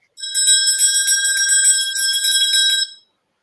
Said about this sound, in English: that's the bell for round 2, Rick.